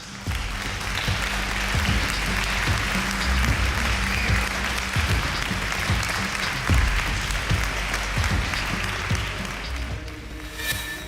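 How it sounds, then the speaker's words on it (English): Applause and cheering from thousands of people in a hall as large as an aircraft hangar, a dense, loud, sustained roar that holds steady for about ten seconds before easing. "Suddenly, a cheer goes up."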